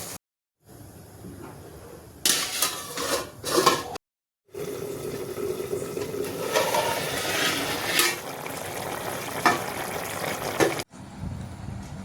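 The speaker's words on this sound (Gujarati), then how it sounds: "નાખી દઈએ પાણી." Water is poured into a tuna fish curry, a rushing, gushing splash that settles into bubbling, set between short silent gaps.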